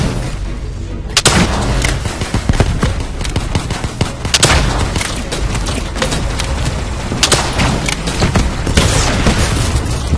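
Continuous loud gunfire from a Black Ops 3 Nightmares zombie match fills the clip. Dense shots and booms rattle without pause, and sharper cracks stand out at intervals.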